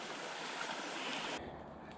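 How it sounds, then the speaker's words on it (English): A winding creek flows along a Florida Trail campsite, a soft steady rush of water that drops away abruptly near the end. "this creek kind of winds around. Plenty of water. It's flowing really good too."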